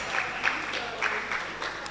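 Applause at an International Women's Day celebration as a faculty dean is introduced; scattered, moderately loud clapping comes in uneven bursts, with a voice speaking over it.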